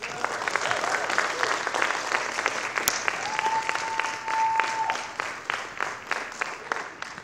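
Audience applause after a student electronic music concert at the College of San Mateo, a steady dense clapping that fills the room throughout, with a brief sharp click and a faint held tone partway through.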